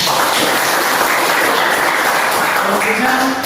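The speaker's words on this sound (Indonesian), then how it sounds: "Tepuk tangan." Applause fills a classroom during a biology lesson, a steady, dense wash of clapping that holds loud and even for the whole stretch without a break.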